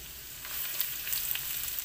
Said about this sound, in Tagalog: Konting gisa-gisa lang